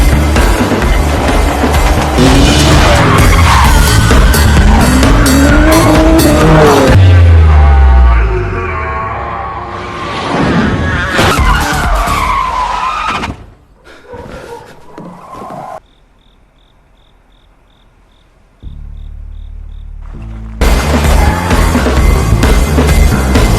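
Film car chase with engines, a low tire skid and sharp impact-like bursts, loud and dense, broken by quieter stretches with faint tones.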